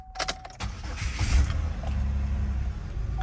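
A 2009 Buick Lucerne with a suspected bad fuel pump relay, heard close by: a few clicks and a creak from the cabin, then the engine catches and settles into a steady low idle.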